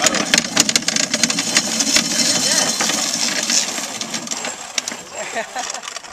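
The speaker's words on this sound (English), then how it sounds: "A little heavy duty corn grinding." A heavy-duty corn grinding machine running at a farm orchard, a continuous mechanical clatter with rapid rattling and knocking, close and fairly loud throughout.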